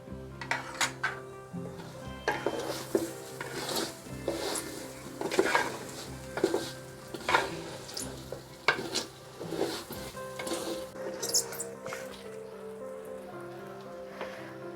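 Rice fries in a pan for prawn biryani while a spoon stirs it, scraping in repeated rhythmic strokes over a soft, continuous sizzle.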